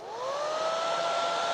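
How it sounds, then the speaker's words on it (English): A hair dryer blows acrylic paint dry on a stenciled sign, its motor spinning up and then holding a steady, close whooshing roar with a sustained tonal whine. "just get the hairdryer and blow that dry"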